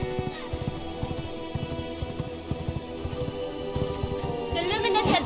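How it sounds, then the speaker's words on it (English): Horse hooves galloping in the game V Rising, a steady rapid clip-clop rhythm with music and voices over it, the sound building slightly toward the end. "I'm gonna drop the horse off right here."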